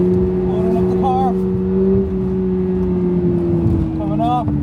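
A 2022 Subaru BRZ engine drones steadily while the car drifts on ice, its tone sagging slightly as the rear slides, with someone talking over it throughout.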